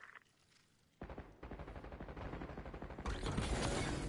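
Video game gunfire in a military shooter, with rapid automatic bursts building after a quiet opening and growing louder and denser toward the end. Nobody speaks.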